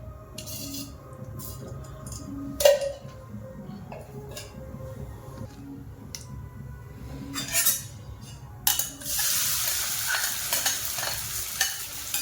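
Sago pearls stirred and fried in ghee in a pan, with a steady soft sizzle, occasional spoon scrapes and knocks, and a louder hiss building toward the end.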